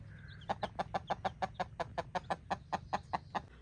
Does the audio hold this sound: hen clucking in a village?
yes